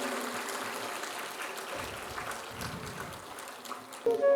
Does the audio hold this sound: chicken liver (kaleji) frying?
no